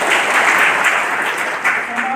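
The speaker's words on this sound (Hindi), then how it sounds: "सेंधवा के लिए एक जोरदार ताली बजाएंगे।" Loud, dense applause from a crowd gathered at a student gathering in Sendhwa, steady clapping filling the short stretch without pause.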